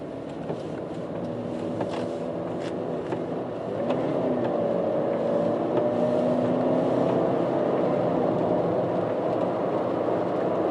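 A light car pulls away from a standstill, its engine drone rising in pitch and swelling louder after a few seconds, then holding steady under a low road rumble, heard from inside the cabin with no voices.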